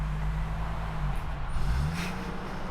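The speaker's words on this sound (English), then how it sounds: "Daylan's never driven a Chaser before." Toyota Chaser engine revving as the car pulls away: a loud, close, steady engine drone that shifts in pitch as it accelerates, with no talk.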